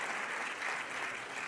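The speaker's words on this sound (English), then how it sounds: "let's give a round of applause for that" An audience breaks into applause, a dense, steady wash of clapping hands that holds at an even level throughout with no voices over it.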